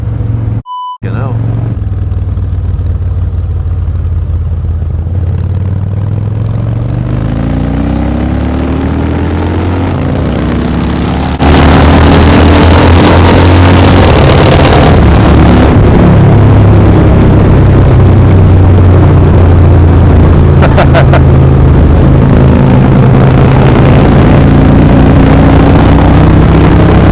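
A Harley-Davidson motorcycle engine on a morning ride, recorded from the rider's position: a steady, loud, rumbling drone that rises in pitch as it revs and swells louder partway through, with wind noise throughout.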